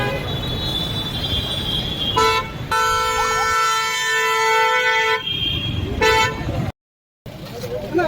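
Vehicle horns honk in a traffic jam on an Adilabad road: short repeated toots, then one long sustained blast lasting a few seconds, with more horns over a steady rumble of traffic.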